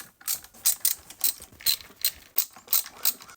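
Rapid ratchet clicking as bolts are backed out of the front fender on a Yamaha YZ125 dirt bike, arriving in about nine short, close bursts at a steady pace with no talking.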